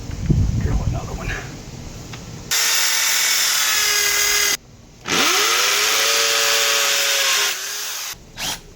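A power drill bores a hole into a wall while a granite grill side table is being built, with two loud sustained whining bursts split by a short pause, a spin-down between them, and speech and handling noises beforehand.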